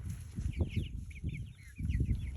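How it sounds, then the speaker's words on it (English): A hen on a farm clucking in a rapid series of short, close, repeated calls over a low rustling background. "She is a crazy hen."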